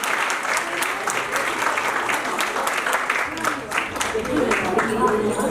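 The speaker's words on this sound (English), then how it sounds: "Please have a big applause for these kids." An audience at a school's annual cultural fest in Noida gives the children steady, dense applause, with a voice calling out over the clapping throughout.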